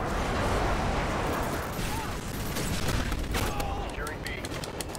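Dense, sustained gunfire in Modern Warfare 2 as Harriers are shot down, a continuous rattling fusillade filling the whole stretch at steady loudness, with game effects layered in and a voice talking over it.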